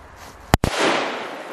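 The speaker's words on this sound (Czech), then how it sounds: "Ty kráso, to byl výbuch jak blázen." A single sharp firecracker bang, loud and close, with a brief crackling echo and a rushing hiss of smoke and air fading afterward.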